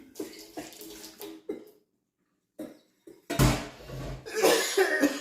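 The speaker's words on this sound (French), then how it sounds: "Je me suis mis à tousser." A few sharp coughs close up, separated by brief pauses, followed by a louder burst of harsh coughing and throat noise.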